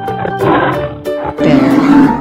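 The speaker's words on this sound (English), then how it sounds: "Lion." A lion lets out two loud, rumbling roars in quick succession, the second longer and heavier, set against a continuous musical backing.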